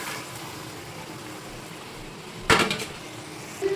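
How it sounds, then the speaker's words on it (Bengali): Chicken meat dropped into a cooking pot with yogurt and meat masala, making a sudden loud clatter and sizzle that quickly fades into the steady background of cooking noise. "এবার আমি মাংসটাকে দিয়ে দেবো।"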